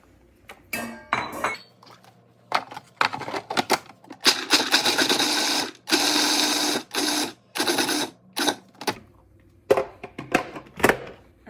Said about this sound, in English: I'm gonna put them in the food processor